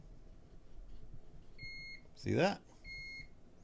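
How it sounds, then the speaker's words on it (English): A Nortec 600 eddy current flaw detector sounds its gate alarm as a probe crosses a far-surface groove: two short, steady electronic beeps separated by a brief spoken remark, quiet against a low background hum. "as soon as I do that, if it enters that segment gate, I'll get an alarm."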